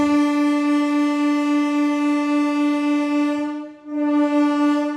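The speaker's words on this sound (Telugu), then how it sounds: "మన ట్రైన్ అయితే నెల్లూరు రైల్వే స్టేషన్ నుంచి డిపాచర్ అవడానికి సిద్ధంగా ఉంది" A Nellore to Vijayawada MEMU express train at Nellore station sounds its horn in a loud, steady, near tone that breaks off briefly near the end and then resumes.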